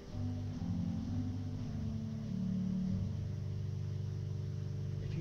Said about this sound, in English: There is a Liblich Borden at 16 feet. For comparison purposes, I'll play it up an octave.